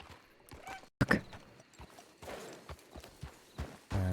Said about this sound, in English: there's horses over there, look wild.